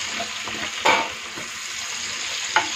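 Chicken and onion cooking in a pan over low heat, a steady even sizzle close by with two brief scrapes or knocks of a utensil, no voices.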